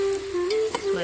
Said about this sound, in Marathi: आता चवीपुरतं मीठ घालून याला छान हलवून घेऊया.